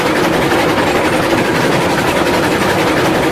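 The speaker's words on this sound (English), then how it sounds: "Bess is a great little train for this." A small steam locomotive running on a logging and sawmill line in the Railroads Online video game, giving a steady, loud, continuous engine and rail rumble with no breaks.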